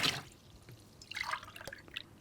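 Water poured into a measuring container to dilute a sanitising solution: a splashy burst at the start, then scattered drips and a second gurgling pour, close and fairly quiet.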